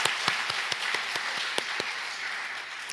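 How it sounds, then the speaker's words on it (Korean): A church congregation applauds the choir after a hymn, producing a steady wash of many hands clapping with a few sharper individual claps standing out, heard from some distance at moderate volume. "다시 한번 박수 보내드리겠습니다"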